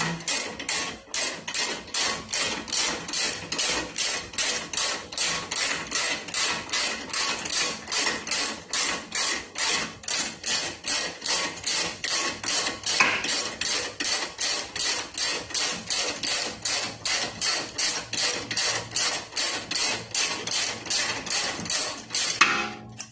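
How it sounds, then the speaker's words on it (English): A socket wrench ratchets steadily on the control arm of an Audi A4 B6. The quick, even clicking runs close and loud for the whole stretch, with no talking. "So now we can pop this back in with our socket."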